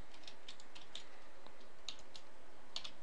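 Typing on a computer keyboard, a scattered run of light, close key clicks at an uneven pace over quiet background, with no voices.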